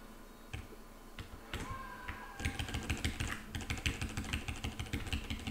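Rapid, close computer keyboard keystrokes clatter in a dense, irregular rhythm, building from scattered taps into continuous typing during a Hollow Knight gaming session.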